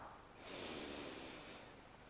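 Children in a yoga class draw one long, soft breath through the nose, a faint airy hiss that swells and fades, close and alone with no talking.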